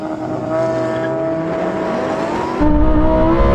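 A Lamborghini Huracan STO launches off the line in a drag race without launch control, its engine screaming loud and rising in pitch before a sudden shift into a deeper, harder roar, heard up close.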